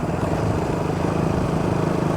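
A motorcycle engine drones steadily nearby, a continuous buzzing rumble without clear approach or fade.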